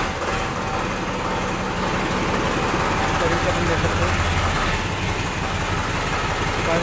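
The engine of an Eicher 551 tractor runs steadily with a low, continuous diesel rumble that holds close and fairly loud for several seconds, with faint voices in the background.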